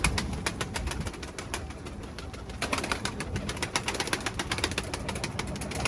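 Pigeons or doves gather at a mineral and salt feeding spot outdoors, with repeated wing flaps and shuffling close by, soft cooing and bird calls scattered throughout, and no voices.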